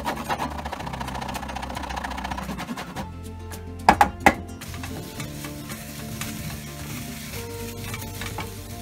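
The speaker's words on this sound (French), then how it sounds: "On va laisser cuire encore quelques minutes jusqu'à ce que la courge soit un petit peu ramollie." Squash sizzles steadily in a hot pan, a continuous frying hiss with a few sharp clicks and clatters of utensils near the middle, no one speaking.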